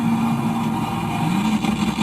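Turbo race car accelerating while pulling up beside another car, a loud steady engine drone held close throughout a short stretch.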